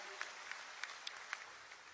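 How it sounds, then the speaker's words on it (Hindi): A few separate claps ring out faintly over a low murmuring crowd as an audience welcomes guests at a fishermen's conference in an indoor stadium in Raipur, sparse, spaced hand strikes rather than full applause. "हमार अंगना में आए अतिथि ओकर ताली बजा के स्वागत कराओ"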